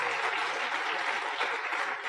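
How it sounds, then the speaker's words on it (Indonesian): An audience at a business motivational seminar applauds, a dense, even roar of many hands clapping at once, sustained and steady from start to finish. "Tepuk tangan buat Tiansi Bapak Ibu"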